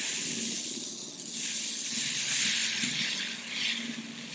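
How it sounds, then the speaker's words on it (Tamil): Steady loud hiss and sizzle of uttapam batter spreading on a hot oiled griddle, continuous with slight swells, no voices. "கொஞ்சம் ஆயில் ஊத்தி இப்போ ஊத்தப்பம் ஊத்திக்கலாம்."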